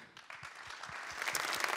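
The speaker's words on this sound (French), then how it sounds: "On peut les applaudir." Audience applause for the organising team at the launch of the WEB2DAY 2016 festival, starting softly and swelling into a fuller wash of many hands clapping in a large hall.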